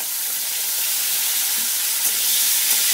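Green chillies, black cumin and chopped tomato sizzle in hot oil as they are stirred, a steady close hiss throughout with a faint scrape or two of the spoon and no talking.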